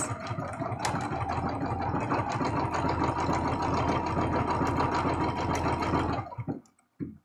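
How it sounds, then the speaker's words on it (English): Sewing machine stitching around a quilted heart, a steady near whirring hum with rapid needle chatter that runs for several seconds and then slows and stops. "we're going to lower the needle and stitch all the way around."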